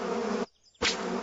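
Cartoon bees buzz in a steady, loud drone that cuts out for a moment, then resumes with a sharp burst.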